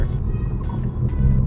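A Ford Focus ST rolls slowly at about 10 mph with braking, a steady low engine and road rumble heard from inside the cabin, fairly loud and continuous with faint higher rattles above.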